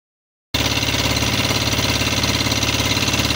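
A motorcycle engine runs steadily and close by with a rapid, rhythmic chugging that starts abruptly after a brief silence and continues without pause.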